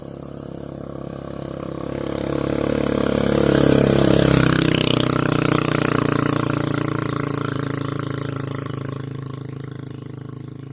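A motorcycle engine roars past, loud and steady, building to a peak near the middle and then fading away as it recedes.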